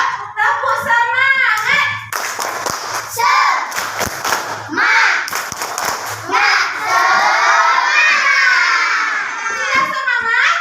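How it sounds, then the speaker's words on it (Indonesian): A classroom of children performs a rhythmic spirit clap chant, sharp patterned hand claps alternating with loud chanting and shouting voices, close and energetic throughout. "Kita tepuk semangat dulu yuk."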